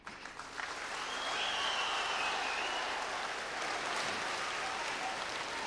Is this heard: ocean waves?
no